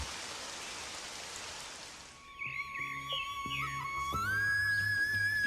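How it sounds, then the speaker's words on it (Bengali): Light drizzle in a cartoon falls as a soft, steady hiss for about two seconds, then fades as music and gentle tones take over. "এই যা গুড়ি গুড়ি বৃষ্টি পড়ছে"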